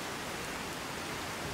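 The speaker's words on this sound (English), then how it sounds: "a day like this, where the cold rain pours down" Cold rain pours down steadily in Skyrim, a dense even hiss of falling water with no breaks, heard alone.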